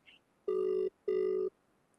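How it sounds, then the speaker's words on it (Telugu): Two long electronic ringback tones of an outgoing phone call sound in sequence with a short gap between them, clear against a quiet background. "ఇప్పుడు ఫోన్ కలుస్తుంది ఎత్తాలే"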